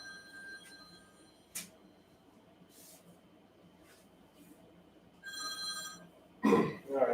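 Several telephones ring in a busy office-like space, with bursts of ringing at intervals over a low background murmur, the loudest burst near the end.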